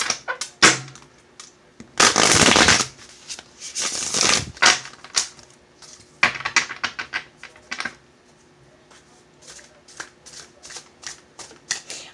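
Crystal Vision tarot cards being shuffled: crisp riffling and flicking, two long loud riffle bursts, then scattered softer taps and card clicks.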